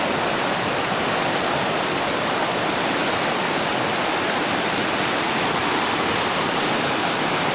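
A river flows in remote Philippine countryside, producing a loud, dense, unchanging rush of water that fills the whole stretch without pause or other sounds.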